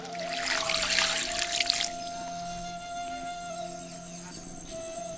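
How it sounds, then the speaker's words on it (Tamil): Water poured into a cooking pot over mutton bones splashes and gurgles loudly for about two seconds, then stops, leaving a faint hum. "இப்ப நல்லி எலும்பு முழுகிற அளவுக்கு தண்ணி ஊத்தி"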